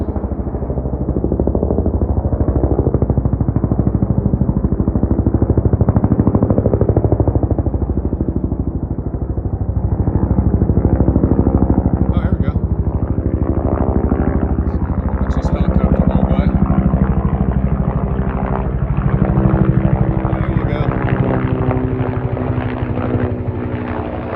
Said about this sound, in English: Helicopter action.